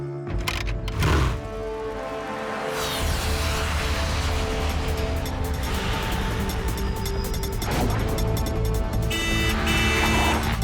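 Slow road traffic in an animated action cartoon scene, a continuous dense rumble of engines with a sharp crack near the start and another burst of noise later, no talking.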